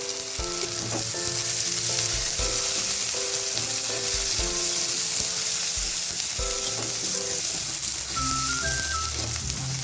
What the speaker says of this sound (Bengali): পেঁয়াজ আদা রসুনটা ভাজা হয়ে গেছে